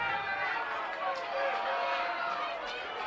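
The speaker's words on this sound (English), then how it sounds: "Some crowd noise going on." Crowd murmur drifts through the stands at a Class 3A high school football game, Lander Valley vs Buffalo, as a steady, moderately distant din of many overlapping voices with no single voice standing out.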